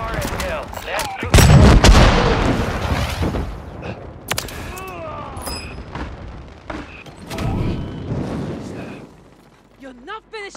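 Gunfire and a grenade blast in the Call of Duty Warzone video game: a loud booming explosion early on, then scattered shots, mechanical clanks and battle noise.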